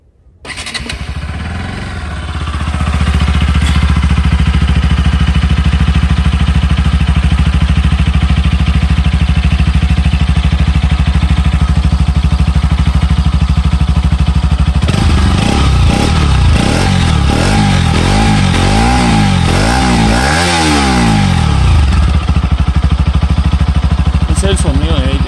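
A motorcycle engine cranks on the starter, catches and settles into a loud, close, steady idle, then revs up and down in several rising and falling sweeps before returning to idle.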